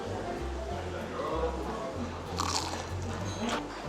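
Crispy shishito pepper tempura bitten and chewed close to the mic, a few crunchy bites followed by chewing, under a low background hum with some speech present.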